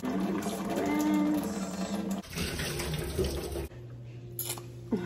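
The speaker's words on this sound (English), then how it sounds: "So I'm gonna rinse it out, get all the sand out, just really clean it" Sea moss is rinsed under running tap water to wash out the sand. The stream splashes steadily and close, then cuts off and restarts in uneven bursts with short pauses.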